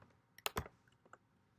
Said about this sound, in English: So you can just type into Google